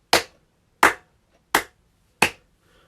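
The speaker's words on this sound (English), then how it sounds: "I'm going to clap my hands" Four single hand claps, evenly spaced and sharp, each ringing out alone in a quiet room with nothing else between them.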